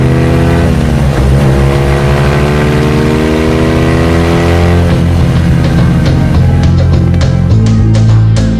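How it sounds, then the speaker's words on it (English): A BMW rally motorcycle, ridden by Hubert Auriol as bike number 100 in a rally raid, races with a loud, continuous engine roar whose pitch sweeps up and down through gear changes, with no talk over it. "La moto numéro 100 fonce vers la victoire."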